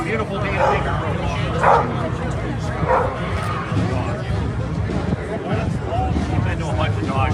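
Several dogs bark and yip in short bursts outdoors amid a noisy crowd during street unrest in Kenosha, Wisconsin, the barks fairly near and repeating irregularly over steady background murmur and voices.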